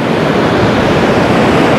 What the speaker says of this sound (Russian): Вот смотрите, море нам наглядно показывает, как оно затапливает часть пляжа.